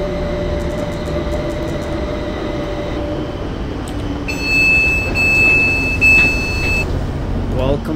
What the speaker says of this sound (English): There's a freight train up there.